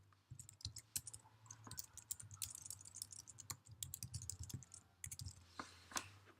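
Computer keyboard typing: a quiet, steady run of light key clicks with irregular rhythm and a few sharper taps, over a low background hum, no voices.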